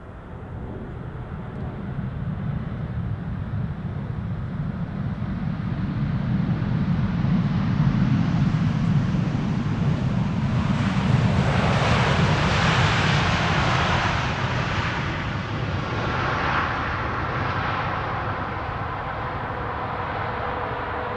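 Aircraft arriving at Amsterdam Schiphol Airport, a steady broadband jet engine roar that swells over several seconds as a plane passes, then eases off while staying loud, with no one talking.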